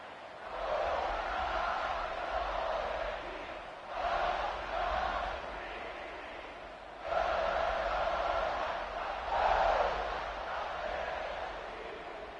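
A college football video game stadium crowd roars in long sustained waves of cheering and chanting, rising and falling over several seconds, dense and fairly loud, with no clear single voice.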